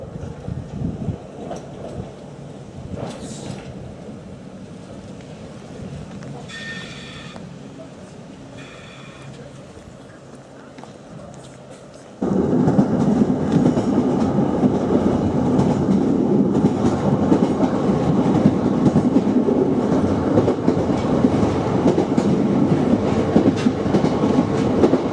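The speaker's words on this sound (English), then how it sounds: "So here comes my next train." An Island Line train on the Isle of Wight arrives at a station: quiet platform ambience with faint rumbling, then a sudden, loud, sustained roar and rattle of the train that continues to the end.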